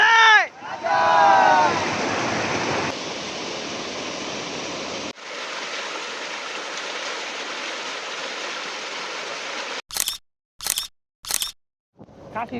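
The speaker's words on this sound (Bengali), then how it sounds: "এটা আসলে অত বড় একটা ঝর্ণা না, ছোটখাটো একটা ঝিরির মতো ঝর্ণা আর কি।" A small trickling waterfall stream in the Tanguar Haor area flows as a steady, fairly close broadband wash, broken by a brief gap and ending in a few short sharp bursts.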